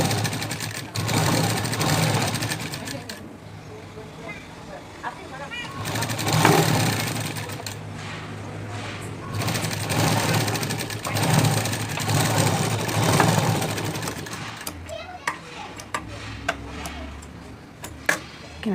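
A domestic sewing machine runs steadily, stitching the front part of a blouse, its dense whirring hum rising and falling over almost twenty seconds with brief ticks as it slows near the end.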